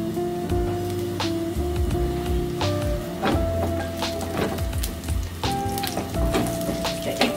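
Cinnamon and cardamom fry in hot ghee in a preheated pan, giving a steady close sizzle dotted with sharp crackles and pops throughout.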